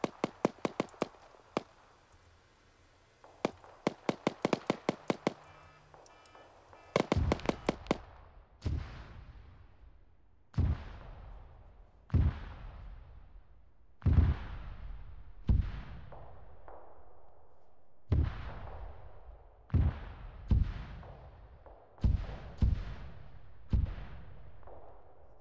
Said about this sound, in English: Danger close artillery falling inside the perimeter.